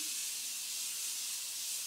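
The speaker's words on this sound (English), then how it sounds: "I'm taking my Morphe Continuous Setting Spray." A Morphe Continuous Setting Spray mists steadily as a continuous close, soft hiss, heard alone for about two seconds with no talking.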